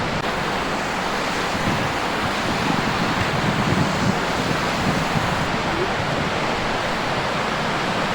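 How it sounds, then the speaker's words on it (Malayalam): Pykara waterfall roars in an unbroken, even wash of rushing water, loud and constant throughout with no voices. "താഴേക്ക് എത്തുമ്പോഴേക്കും വെള്ളച്ചാട്ടത്തിൻ്റെ ഇരമ്പൽ നമുക്ക് കേൾക്കാനാവും"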